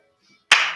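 A single sharp hand clap during a group fitness routine, loud and close, with its ring decaying over the final half second after near silence.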